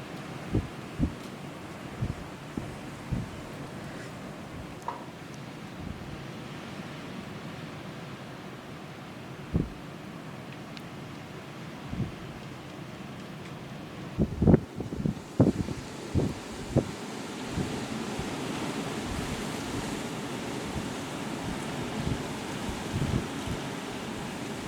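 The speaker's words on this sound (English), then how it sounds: "Can you hear the winds?" Strong gusting storm winds from Storm Isha over the UK and Ireland, a steady roar of wind buffeting the microphone with louder bursts in the middle, rustling and surf-like noise behind, no talking.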